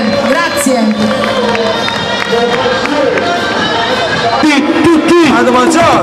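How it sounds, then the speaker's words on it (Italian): A large crowd at a 2008 festival in Barra, Italy, cheers and applauds the paranza La Formidabile. The sound is a loud, continuous roar of cheering and clapping mixed with shouting voices and a dense babble of talk. "Allora, un forte applauso per La Formidabile, grazie."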